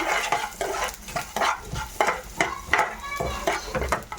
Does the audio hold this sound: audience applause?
no